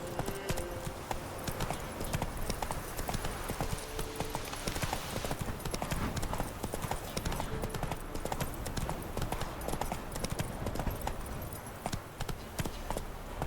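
A horse gallops in The Witcher 3, with rapid rhythmic hoofbeats pounding continuously and loudly over a busy game backdrop of music and ambience.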